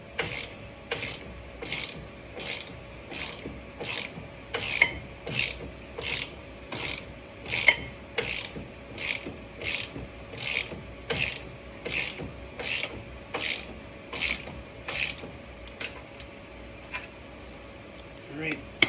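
A ratchet clicks in a steady rhythm while tightening the top of a tie rod on a BMW E92 during an SPL tie rod install, with close, regular strokes repeating for many seconds before slowing at the end.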